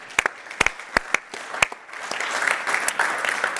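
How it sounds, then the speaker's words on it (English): Several sharp, separate claps ring out first, then the audience at an activism talk swells into fuller, continuous applause that stays moderately loud. "she deserves another round of applause"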